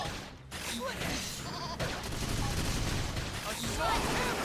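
A monster in the Xenoblade Chronicles X video game lets out a few short, wavering sheep-like bleats amid rapid bursts of gunfire and battle noise.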